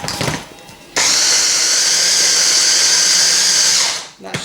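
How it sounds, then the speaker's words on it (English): Fritter batter for marrow fritters is whisked with an electric whisk, a steady high whirring motor sound that holds for about three seconds and then winds down, with brief talk just before. "let's just do one more whisk with this"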